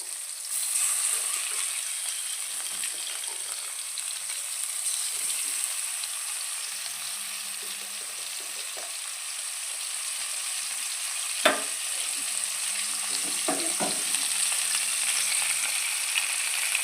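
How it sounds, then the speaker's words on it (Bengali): Fish frying in a small amount of oil in a pan for a Bengali doi katla dish, a steady close hiss of sizzling with occasional soft pops and a few clicks of handling, no voices. "তো প্রথমে মাছগুলো আমি এভাবে ভেজে নিচ্ছি।"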